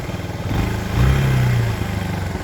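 A Suzuki Djebel 200 motorcycle idling close by, its single-cylinder engine briefly rising then settling back as the revs drop, a steady low thumping rhythm.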